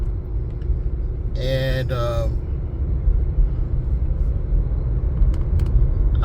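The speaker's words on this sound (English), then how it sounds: "I recently got a 2017 Ford Fiesta I'm driving" A 2017 Ford Fiesta drives on the road, its interior filled with a steady low road and engine rumble while someone talks over it, plus a brief higher whine.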